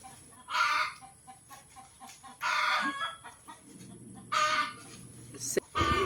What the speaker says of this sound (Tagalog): wala kang ibang maririnig kundi ang mga ingay ng manok, no, tilaok